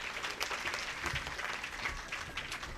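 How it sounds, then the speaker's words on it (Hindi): Loud, steady applause from an audience at a jewellery shop's gold coin lucky draw event, dense clapping filling the whole stretch with no voices over it. "ज़ोरदार तालियां होनी चाहिए।"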